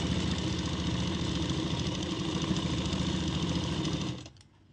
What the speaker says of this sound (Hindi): यहाँ से हम सिलाई शुरू कर देंगे।